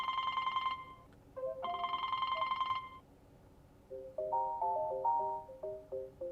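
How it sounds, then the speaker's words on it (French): A classic bell-style telephone ringtone from a Ford/Lincoln SYNC 3 car multimedia system sounds in two long bursts, followed by a different brighter melodic ringtone playing a quick series of tones. "je peux utiliser ma bonne vieille sonnerie du téléphone"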